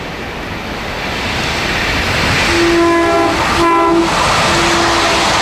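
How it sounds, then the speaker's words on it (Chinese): A Tze-Chiang express train, No. 303, passes the disused Duoliang station, a loud, steady rumble with a two-tone horn sounding in short blasts mid-pass. "但我很期待司机大哥通过的时候可以鸣笛"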